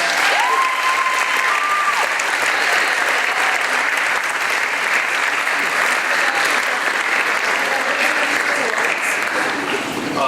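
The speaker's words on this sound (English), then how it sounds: "please give them a nice big round of applause" An awards-show audience gives a big, loud round of applause for journalism students gathering on stage, continuous dense clapping with crowd noise and scattered voices mixed in.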